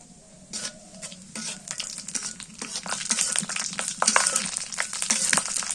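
Cumin seeds fry and crackle in a hot wok while being stirred, a steady close sizzle with scraping strokes that grows louder and busier toward the end.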